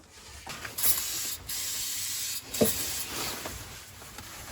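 Cleaner sprays in short hissing bursts onto the choke cable area of a Polaris Ranger side-by-side, with several close, separate squirts and brief pauses between them.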